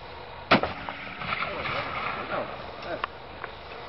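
A gun fires on a film set with one sharp, loud report early on, followed by a rumbling tail and a few smaller knocks, while people's voices carry on beneath it.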